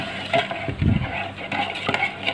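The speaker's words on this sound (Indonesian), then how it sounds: "Kita aduk merata" Bread dough ingredients are stirred together with salt, egg and vegetable oil in a bowl, giving soft, close, irregular scraping and sloshing sounds with a few louder strokes and no talking.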